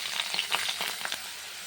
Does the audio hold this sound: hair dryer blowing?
no